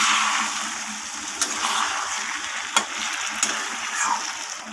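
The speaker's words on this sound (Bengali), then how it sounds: "এরপর আমি এতে জল দিয়ে অ্যাড করে দেব।" Vegetables for a mixed-vegetable chorchori with hilsa fish head sizzle and fry in oil, a steady broadband crackle with a few sharp splashes and clatters as water goes into the hot pan.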